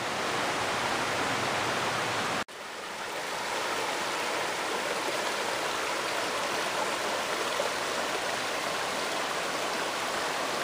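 Panther Creek in Georgia rushes steadily along a wooded trail, a loud, continuous broadband wash of flowing water with a brief dropout near the start.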